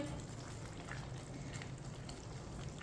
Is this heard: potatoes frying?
yes